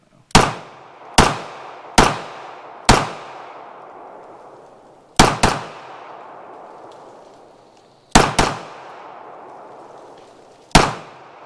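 A WWII-era FN High Power pistol fires S&B ammunition: eight sharp, loud gunshots with ringing decays, some in quick pairs, spaced irregularly across the span.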